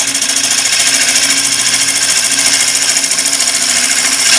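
A scraping tool cutting a spinning piece of wood on a wood lathe, leveling the face and taking down a center bump, gives a steady, loud, continuous rasping hiss with a fine rapid chatter throughout, alone without talk.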